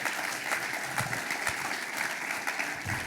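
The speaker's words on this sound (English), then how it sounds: "Let's have a big round of applause for John Bisignano." Audience applause after a campus conversation talk with the president and CEO, a dense steady round of clapping at moderate distance, with no talking over it.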